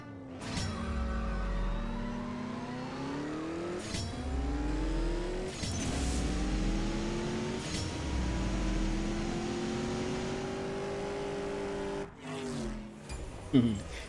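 A car accelerating in the CSR2 racing video game with a NOS boost, several rising engine revs climbing through the gears, each cut by a short shift break, loud and continuous with a burst near the end.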